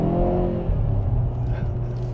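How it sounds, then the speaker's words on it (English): Exhaust of a Hyundai Veloster N hot hatchback under acceleration, a loud, steady engine drone heard from inside the car that holds for the whole stretch without a break. "You hear that? You hear the exhaust?"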